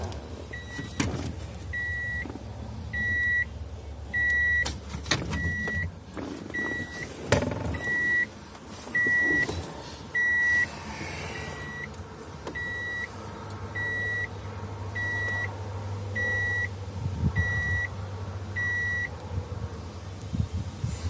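A 1992 Subaru's warning chime sounds during a key cylinder reinstall: a steady series of short, evenly spaced electronic beeps repeating close by, with occasional clunks and handling noises from the work.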